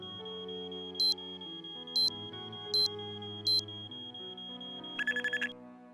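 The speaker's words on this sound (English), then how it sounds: "This is trauma-inducing to have to do that alarm every time." Shrill electronic alarm in the Nancy Drew: Treasure in the Royal Tower game, a steady high tone over music with four evenly spaced louder bell-like pulses, then a quick rapid burst of chirps.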